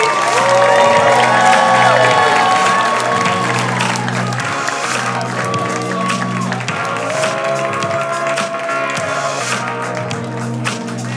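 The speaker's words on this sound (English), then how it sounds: "why don't you guys put your hands together right now" A comedy show crowd claps and cheers loudly for a female comedy duo, a continuous wash of applause with whoops and shouting held steady throughout.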